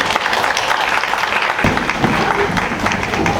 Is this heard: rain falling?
no